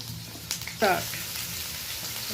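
About a kilogram of potatoes frying in hot oil, a steady close sizzle and crackle that runs throughout, with a brief voice sounding over it partway through.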